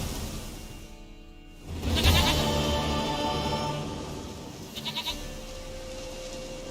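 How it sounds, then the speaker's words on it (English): A goat in The Witcher 3 lets out a loud, quavering bleat nearby, followed a few seconds later by a shorter second bleat over quiet outdoor game ambience. "Goat of mine, dearest, sweetest goat."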